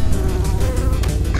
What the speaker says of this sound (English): That wasp had no appreciation for video games.